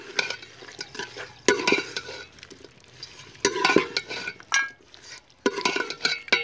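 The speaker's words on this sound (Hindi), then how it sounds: "अब हम इसके अंदर 2 अदद मीडियम साइज़ कटे हुए टमाटर ऐड करेंगे। ठीक है, और इसे अच्छे तरीके से मिक्स करेंगे।" Chopped tomatoes stirred into a chicken karahi, with bursts of scraping and clinking from a utensil against the pot over a soft sizzle, coming in uneven rounds with quiet gaps between.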